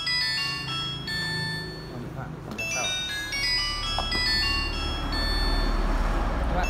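A mobile phone in a used-phone shop plays a melodic electronic ringtone, loud and close over background chatter and shop noise, while people talk nearby.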